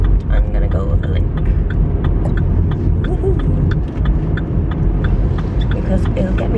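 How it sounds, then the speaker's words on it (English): A small car drives up a hill in Ireland, its engine giving a steady low rumble close inside the cabin, with a person talking over it. "Come on, get up the hill now, little car."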